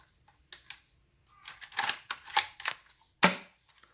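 Swift Hawk 702 gel blaster sniper rifle, stock and unmodified, fires a string of sharp, close clicking snaps, roughly five shots spaced unevenly over a few seconds, with quiet gaps between them and nothing else audible.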